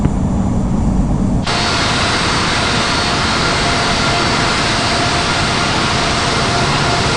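Simulated Airbus A220 jet engines in the Infinite Flight game roar steadily during taxi, a loud broad rush that jumps up in level after a quieter opening second and then holds constant.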